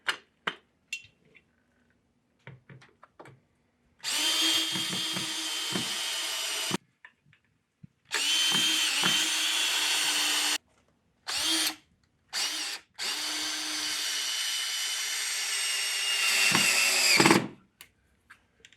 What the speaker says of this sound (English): drill these holes with a drill bit